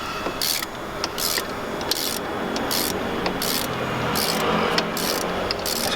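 A lubricated bolt on a Mini Cooper S R53 ABS sensor is worked loose with a hand tool, giving repeated close scraping, rasping strokes in an uneven rhythm with small clicks between them.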